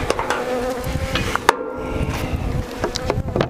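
Honeybees swarm and buzz loudly around an opened hive as frames are handled, a dense close hum broken by occasional wooden knocks and clicks.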